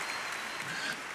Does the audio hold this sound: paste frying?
no